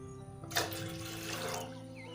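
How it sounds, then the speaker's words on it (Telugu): Water is poured into a pan from a glass to make sugar syrup for a glass jelly fruit cake, a short splashing gush that rises suddenly, runs about a second, then tapers off against a quiet kitchen hum. "ఎన్ని గ్లాసులు నీళ్ళు పోసుకుంటాండి ఒకటి?"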